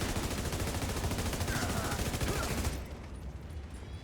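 Rapid, loud gunfire from the video game Descent, a dense unbroken stream of shots that drops to a lower, thinner level for the last second or so.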